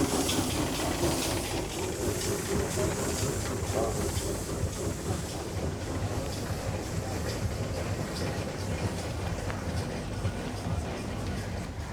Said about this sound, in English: So yes, that's the Sentinel wagon.